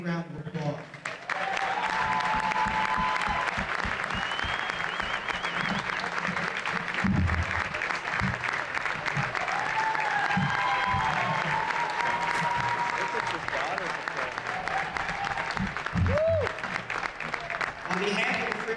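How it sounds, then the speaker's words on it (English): Audience applause at a high school girls' varsity basketball game in a gym, sustained loud clapping across the whole stretch with voices mixed in. "She deserves a big round of applause."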